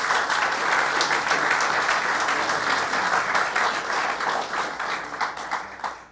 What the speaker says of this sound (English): Let's give NYRA another round of applause.